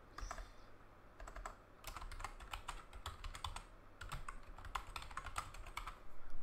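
Steady, fast typing on a computer keyboard while entering a Java package name, a close, quiet, continuous clatter of key presses in short bursts with brief pauses.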